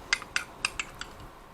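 A spoon scrapes and taps against a bowl while stirring cream cheese, mayonnaise and pepper together, giving five quick, light clinks in an uneven rhythm, close and fairly soft.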